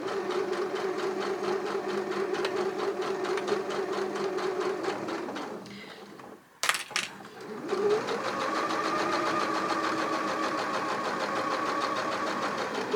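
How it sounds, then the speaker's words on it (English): Domestic sewing machine stitching hoodie panels, a steady close motor hum with rapid needle clatter, briefly stopping around the middle before resuming at a slightly different pitch. "I'm just going to carefully sew up to them and gently remove them as I go"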